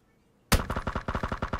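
Automatic gunfire in PUBG, a sudden loud burst of rapid shots in a fast regular rhythm, close and alone without talk.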